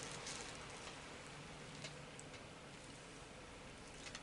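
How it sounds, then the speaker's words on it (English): Light rain drizzles outdoors in a soft, faint, even hiss of tiny drops, with a few scattered ticks of drops landing on a surface. "Starting to drizzle out."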